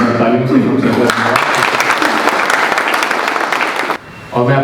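Participants at a motorcycle rally, a Pashupatinath–Kashi Vishwanath ride of Royal Enfields, clap in a dense burst that lasts several seconds, with voices speaking at the start and end.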